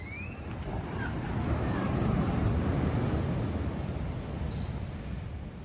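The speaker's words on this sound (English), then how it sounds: "I don't know if you can hear the ocean out there, the Gulf of Mexico." Gulf of Mexico ocean waves heard from a resort room near Cancun, a soft distant wash of surf that swells and fades, with faint wind.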